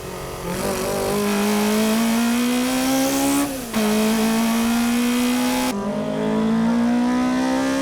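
Toyota AE86 Hachi-Roku race cars competing in an N2 race at Tsukuba circuit, engines revving loud and close with rising pitch, a brief gear-change dip midway, then continued hard acceleration.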